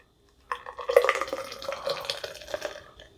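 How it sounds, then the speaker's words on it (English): Pepsi Nitro pours hard into a cup after a moment of quiet, splashing and bubbling with a fizzy, gurgling texture that gradually thins out. "like it says, pour hard in a cup"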